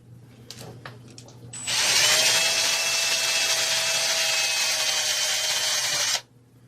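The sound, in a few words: power drill drilling out metal plug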